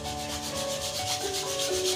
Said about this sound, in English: Then just rub your hands on the palms.